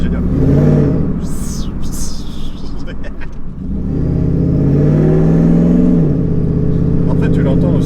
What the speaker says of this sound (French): le truc qui t'incite à appuyer sur la pédale, c'est pas tant le bruit de l'échappement, mais peut-être plus le bruit du compresseur devant